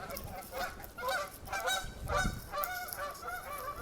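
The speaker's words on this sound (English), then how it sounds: "after these geese are honking away." A flock of geese honks repeatedly in overlapping, nasal calls, fairly faint and distant, with a busy, continuous rhythm.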